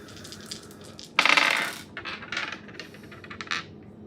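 Dice rattle and tumble across a hard surface during a tarot reading, a short close clatter with one sharp burst of knocks followed by several lighter bounces that fade out.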